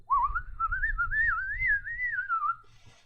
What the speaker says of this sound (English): how do you learn to whistle so good?